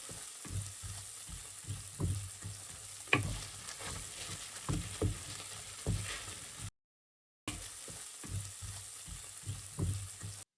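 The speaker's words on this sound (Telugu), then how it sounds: "ఇప్పుడు మనం ఒక tea spoon ginger garlic paste వేసి మంచిగా వేగనిద్దాము." Ginger garlic paste frying with onions in a pan for masala mutton paya, a constant sizzle punctuated by regular spoon knocks and scrapes against the pan, close-up, with a brief dropout midway and no speech.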